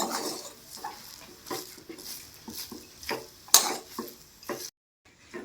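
A spatula stirs vegetable chop filling mixed with peanut powder in a pan, making soft, rhythmic scrapes and taps at a moderate level with one sharper clink, then a brief silence.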